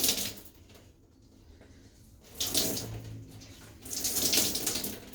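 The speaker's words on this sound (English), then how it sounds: "I'm going to start wringing it now because there's so much moisture" Water pours and splashes in a tub as clothes are wrung out, coming in two louder gushing bursts separated by quieter dripping and trickling.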